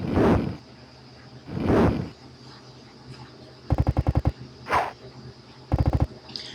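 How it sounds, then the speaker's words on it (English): Enchanted Bozaks exploding in an ice storm in a retro fantasy role-playing game: several loud synthetic bursts, two broad whooshing blasts and rapid rattling machine-gun-like stutters, spaced irregularly and standing alone. "the enchanted Bozaks explode in a freaking ice storm"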